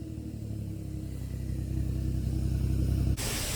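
A car engine runs loud and low, its rumble climbing steadily as the revs build before cutting off sharply near the end.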